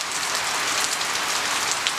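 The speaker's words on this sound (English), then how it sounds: "So we got rain on the metal roof." Rain falling on a metal roof as a sound effect: a bright, continuous patter of drops with a constant close hiss and no voices.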